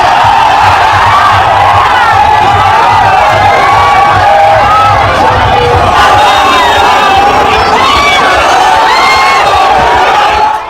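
A large, excited crowd cheers and shouts continuously at a Yogi Adityanath road show during West Bengal election campaigning, loud and close, with roaring voices and whoops that never let up.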